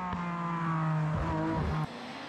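A Porsche 911 SC rally car racing on a rally stage, its engine droning loud and steady with shifting pitch before cutting off abruptly near the end.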